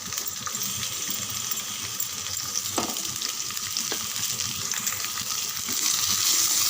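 Carrots, beans and curry leaves sauté in a pan for a sambar, giving a steady close sizzle and crackle throughout, with a couple of faint utensil clicks and the frying growing slightly louder near the end.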